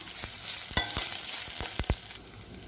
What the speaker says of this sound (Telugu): ఫస్ట్ జింజర్ గార్లిక్ పేస్ట్, కొంచెం ఆయిల్ రిలీజ్ అయిపోతే నెక్స్ట్ వేసేయచ్చు.